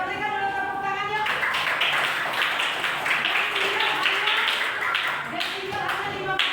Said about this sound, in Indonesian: kita berikan dulu tepuk tangan ya